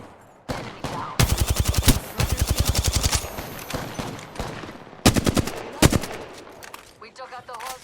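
Rapid bursts of automatic gunfire from an Apex Legends match, close and loud, in several volleys separated by brief pauses, with a final fainter stretch of game sounds.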